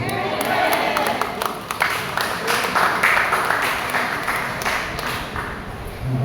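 Loud, dense applause from a church congregation, with cheers and shouts mixed into the clapping throughout.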